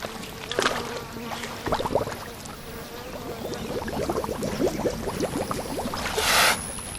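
Giant forest hogs wallowing in a mud bath near the Kazinga Channel in Uganda blow bubbles, making a run of close wet gurgles and bubbly pops that build in density, with a louder splashy rush near the end.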